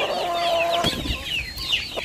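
Chickens kept in a pen alongside ducks cluck and squawk close up, with several overlapping calls in a quick, busy burst.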